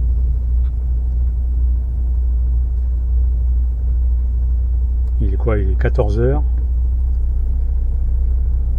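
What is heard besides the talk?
road traffic, cars passing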